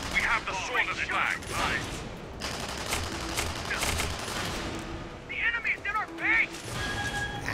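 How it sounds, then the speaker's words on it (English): Rapid bursts of gunfire and blasts crackle through a match of the video game Tribes, with a voice talking over parts of the barrage. "Ah, you shot me, you bastard."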